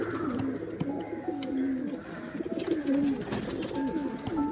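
Pigeons at a rearing loft near Kappad beach in Kozhikode coo repeatedly in low, rolling calls, several birds overlapping at close range with a few light chirps.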